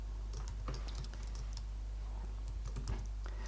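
Quick, uneven keystrokes on a computer keyboard while coding a Rails 7 app, clicking in bursts over steady low hum with no talk.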